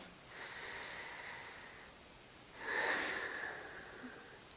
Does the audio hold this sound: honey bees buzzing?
no